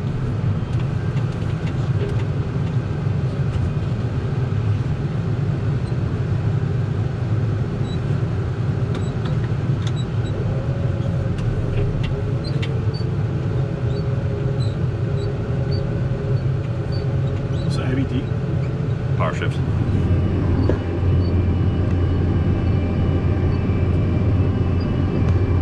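A CASE Magnum 210 tractor pulls away after its clutch is released, a steady loud diesel engine drone running throughout with a rising tone and a brief shift in pitch near the end.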